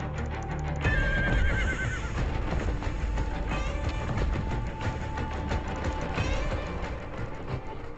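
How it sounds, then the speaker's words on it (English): Altai horses bred by herders neigh loudly in repeated shrill whinnies over a dense, busy background of hooves clip-clopping and thumping, with no talking. "These strong Altai horses, although bred by herders, have retained their wild nature."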